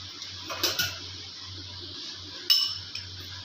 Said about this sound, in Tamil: ஒரு பாத்திரத்தை அடுப்பில் வச்சுக்கலாம்